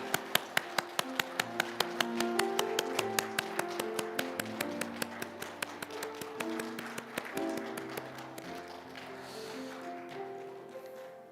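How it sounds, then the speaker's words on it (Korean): A church congregation claps in a steady, regular beat, the claps ringing out over soft musical tones for about ten seconds, fairly faint and with no talking. "하나님께 영광의 박수 올려드리겠습니다"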